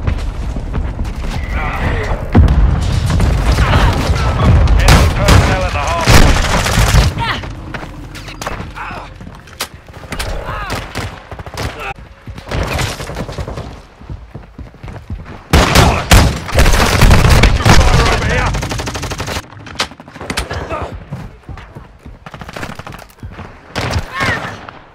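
Heavy gunfire in a Hardpoint match of Call of Duty: Modern Warfare II on the Embassy map: dense rifle and machine-gun bursts and booming explosions, loud and near, with shouted in-game voice callouts over the battle noise.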